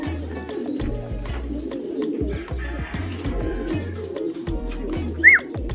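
Pigeons coo in soft, low repeated phrases, overlapping one another close by, with a brief higher chirp near the end.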